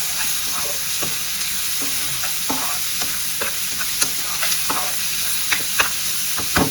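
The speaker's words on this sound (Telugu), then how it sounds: "ఇదో ఇలా కళ్ళించుకొని ఇప్పుడు మళ్ళీ ఒకసారి కలుపుకోవాలి" Tomatoes fry in a pan for egg bhurji with a loud constant sizzle, while a spoon stirs them, adding irregular scraping clicks throughout, close up and with no voices.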